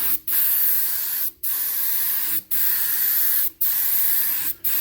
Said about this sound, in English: I just want to mist the color on.